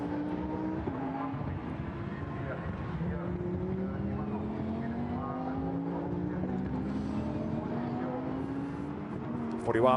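Lamborghini Super Trofeo race cars passing on the Nürburgring circuit, a continuous high engine drone with rising pitch sweeps as cars go by, steady and loud throughout with commentary voice over it.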